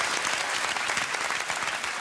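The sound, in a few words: studio audience applause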